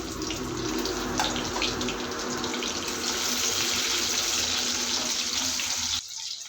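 Chopped onions and chili hit hot oil in a pan and sizzle with a dense, steady hiss that carries evenly for about six seconds before dropping away.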